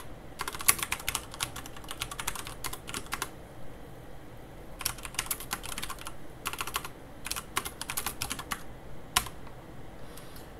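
Someone types code on a computer keyboard in bursts of rapid keystrokes separated by short pauses, close and steady with no talking.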